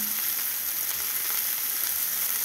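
Ground spices roasting in a hot pan for egg sambar, giving a steady, close sizzle and fry hiss with no talking.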